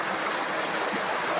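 River water flows in a steady, unbroken rush, a full broadband wash with no pauses and no voices.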